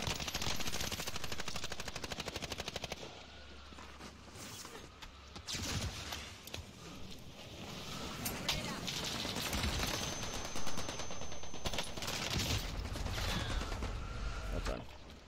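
Rapid gunfire rattles through a Warzone match on Rebirth Island, dense automatic bursts and scattered shots under game noise, with a player's voice speaking over it.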